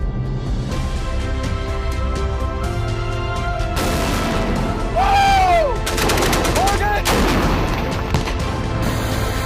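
Marine Corps combat gunfire is heard: loud sharp bursts and booming shots, some of them rapid volleys, along with whistling and other battle noise, set against a constant rumbling background.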